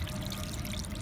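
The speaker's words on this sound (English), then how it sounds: "You get some nice creamy water coming out there." Milky, creamy water draining from the filter of a Whirlpool WWDL 6200 washing machine that was stuck full of water, a steady close pouring gush with no talking.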